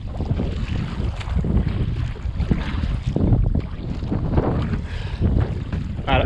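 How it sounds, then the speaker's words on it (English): Wind blows hard over the open water of Puget Sound during kayak fishing, a loud continuous rushing roar with gusty buffeting against the microphone. "You can hear the wind."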